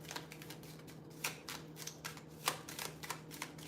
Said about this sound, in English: you're going to have to shuffle a long ass time